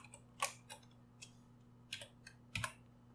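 Keystrokes on a computer keyboard come in short clustered bursts of crisp clicks with pauses between them. They are close and fairly quiet in an otherwise still room.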